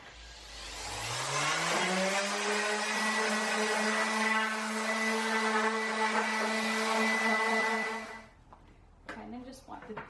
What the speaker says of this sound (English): I'm going to just go over with the heavy duty sander